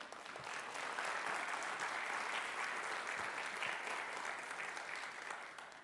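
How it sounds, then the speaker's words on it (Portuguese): A church congregation applauds in steady, dense clapping that fills the room for several seconds before easing off slightly at the end. "Então, pode aplaudir o Senhor."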